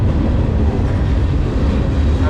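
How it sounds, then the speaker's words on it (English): A freight train slowing into the rail yard at Clinton, Iowa, heard from on board as a loud, dense, continuous low rumble and rattle of wheels and cars, close and steady throughout, with no voices. "Just waiting for this train to slow down enough to jump off."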